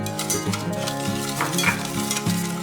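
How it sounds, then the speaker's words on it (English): A whisk stirs mustard, apple cider vinegar, brown sugar, ketchup, honey and other BBQ sauce ingredients in a medium saucepan, making rhythmic scraping and clinking strokes that repeat steadily, close and loud, with no voices. "Whisk all ingredients together in a medium-sized saucepan"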